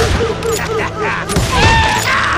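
Covering gunfire in the Western shooter Call of Juarez Gunslinger, a dense fusillade of shots and booms rolling under shouted voices and game music, with heavy cracks bunching near the end.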